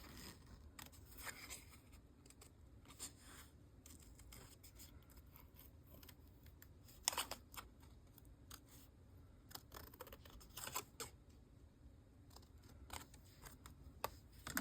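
Scissors snip through a sheet of paper to cut out an image, giving soft irregular crunches and clicks at close range over a quiet background.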